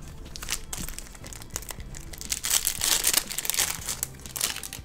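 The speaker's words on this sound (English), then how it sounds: "let's just dump these cards out" Trading cards are dumped out of their packaging up close, making a busy crinkling and crumpling rustle of wrappers and shuffling cards that swells toward the end.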